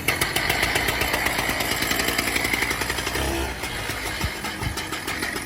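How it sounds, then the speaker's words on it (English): A rotary saw engine runs loud and close right after starting, settling into a buzzy, rhythmic idle that drops slightly in loudness partway through. "Then give a quick tug on the throttle to bring the saw to idle."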